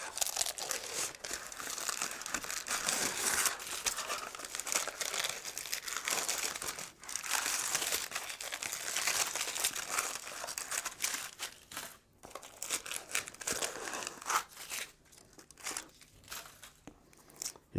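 Baking paper lining being peeled and torn away from a freshly baked carp floater cake, a steady close crinkling and crackling rustle with small tearing bursts and brief pauses, no talking.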